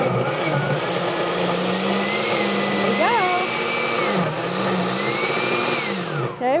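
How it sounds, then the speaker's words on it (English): A kitchen blender runs on low, chopping bananas with kale and milk, making a steady loud motor whir whose pitch wavers as the blades catch the fruit, with a voice speaking briefly over it. "We're going to start on low so that our blender can chop up those bananas a little bit more."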